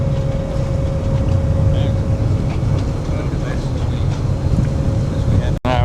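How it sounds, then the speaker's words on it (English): Strong wind buffets the microphone aboard a Manly ferry crossing Sydney Harbour, a loud, constant low roar mixed with engine hum and faint speech throughout. "Now it is super windy"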